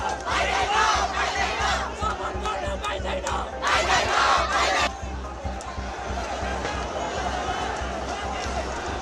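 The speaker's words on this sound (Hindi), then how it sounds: "और उसके बाद नारे गूंजने शुरू हुए" Large Gen-Z protest crowd in Nepal chanting slogans, loud and continuous with shouted voices swelling and fading, dense crowd noise throughout.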